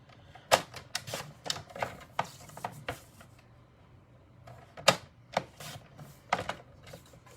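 Paper for a card is cut to size with a trimmer or scissors, giving a quick series of sharp, close clicks and snips in uneven clusters over a quiet background.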